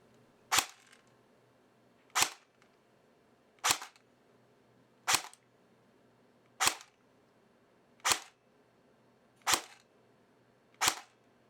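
A Valken airsoft battle rifle fires eight evenly spaced single shots, each a sharp, loud snap about every one and a half seconds, with quiet gaps in between.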